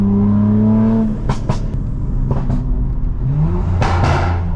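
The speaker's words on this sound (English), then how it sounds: "we've now perfected the burbles on my M4" A BMW G82 M4 engine idles and revs with a low rumble, broken by a few sharp crackling pops from the exhaust, loud and close.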